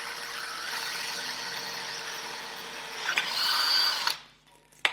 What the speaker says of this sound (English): So pick a place on this joint, and every bike will be different, and then drill through.